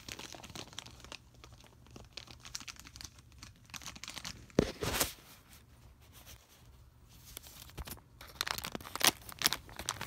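Several Lego Ninjago Movie minifigure bags are torn open at once with fairly quiet crinkling and rustling. Two louder ripping bursts come near the middle and the end.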